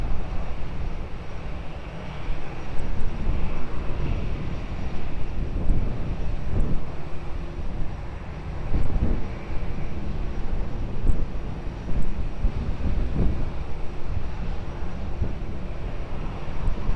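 Airliner on final approach at Lisbon Airport, a steady broad jet rumble mixed with wind buffeting on the microphone, holding at a constant level throughout.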